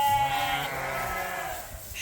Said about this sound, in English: Sheep always seem to be excited when they switch barns.